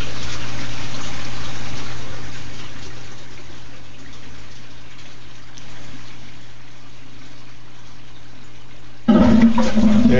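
Water drains from an aquaponic system after its siphon breaks, a long gurgling trickle that fades gradually before a sudden loud, bubbling burp of air and water near the end.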